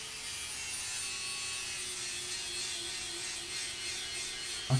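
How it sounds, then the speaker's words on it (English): A grinder works the blade of a hand-forged farrier's knife, a fairly quiet, steady abrasive hiss with a faint ringing tone, ending in a short sharp knock. "So I'm just going to give it a bit of a go with the grinder."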